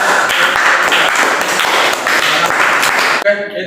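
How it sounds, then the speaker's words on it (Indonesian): A classroom of students applauds together in a steady, dense burst of clapping that lasts a few seconds before cutting off abruptly. "Ya, kasih aplaus untuk kelas."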